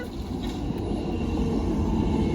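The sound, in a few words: train passing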